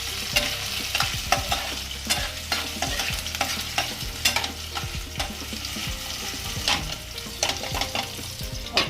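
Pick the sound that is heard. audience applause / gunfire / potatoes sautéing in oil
potatoes sautéing in oil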